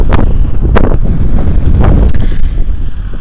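Loud, heavy wind gusts batter the microphone in a continuous roar across a no-till winter wheat field, with sharp bursts of buffeting throughout.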